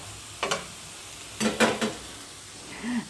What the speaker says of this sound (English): So our onions are starting to sizzle here